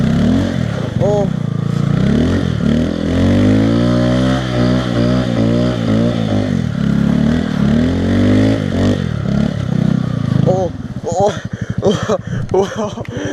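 A Honda Grom motorcycle engine revs repeatedly in second gear while drifting in snow, rising and falling in pitch at close range, with excited voices talking over it.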